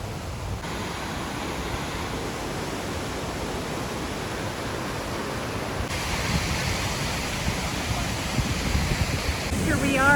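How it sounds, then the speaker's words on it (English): A gorgeous waterfall near Cotacachi, Ecuador, close by as a steady, broad rushing roar that holds level and swells slightly louder toward the end. "once again, a gorgeous waterfall"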